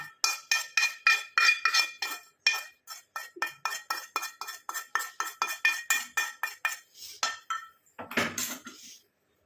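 A spoon clinks rhythmically against a bowl while stirring a face pack of powder and potato juice, dozens of quick bright taps in steady succession, close and alone, ending in a brief scrape.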